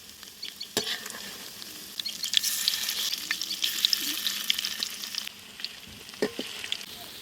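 Potato pakoras bubble and sizzle steadily in hot oil in a kadai as they are turned over. Scattered scraping and clicking stirs come through close up above the constant frying hiss.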